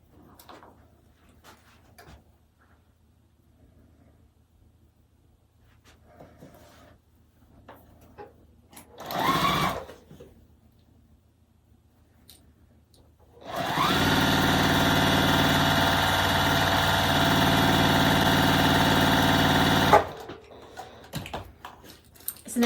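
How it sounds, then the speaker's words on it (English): An electric sewing machine runs steadily for about six seconds, stitching quilt strips together, with a close, even motor whir. Earlier comes a brief fabric rustle and light handling noise, and quiet clicks follow once it stops. "I'm going to sew them to this middle strip."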